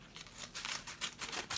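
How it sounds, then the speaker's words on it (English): Quick, crisp scissor snips cut through handbag packaging in a rapid irregular series, close and clear with no voices. "Cut with my trusty scissors."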